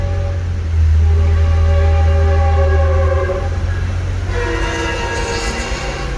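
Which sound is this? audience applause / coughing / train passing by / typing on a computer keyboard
train passing by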